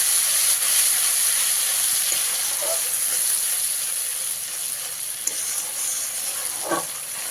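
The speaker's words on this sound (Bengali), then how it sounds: "এবারে এর মধ্যে আমি মশলা পেস্টটা দিয়ে ভালো করে কষিয়ে নেব" Spice paste frying in a pan for a vegetarian chana dal with asafoetida, giving a steady broadband hiss and sizzle throughout, with a few brief clinks of stirring near the end.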